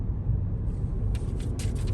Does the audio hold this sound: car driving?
yes